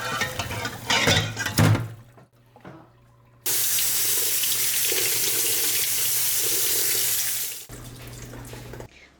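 Cold tap water runs hard into a sink over a pork hock for several seconds as a steady, loud rush. Softer clatter and handling noises come before and after it.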